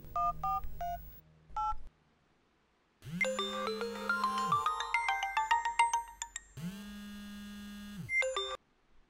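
A telephone number is dialed with a quick run of touch-tone beeps, then electronic ringback tones sound in two long, steady bursts separated by a pause, clear and close with no talking.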